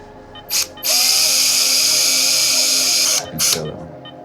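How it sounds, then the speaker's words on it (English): A surgical power drill whines loudly and close while screws go into a fox's broken leg, with a short burst, then a sustained high-pitched run of about two seconds, then another brief burst. "as long as that drill keeps working"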